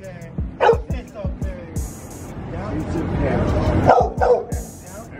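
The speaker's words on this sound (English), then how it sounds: "He's trying to act like he's a guard dog." A dog barks in repeated sharp bursts close by, woofing and yipping in uneven clusters while a person speaks briefly over the noise.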